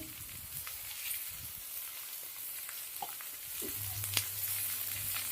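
Snake gourd frying in a pan with green chilli and salt, a steady soft sizzle and hiss throughout with occasional faint stirring scrapes, heard alone at moderate distance.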